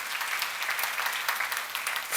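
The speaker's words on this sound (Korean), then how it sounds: "박수로 하자." Congregation clapping during a church seminar, a dense, steady round of applause from many hands that swells slightly at the end.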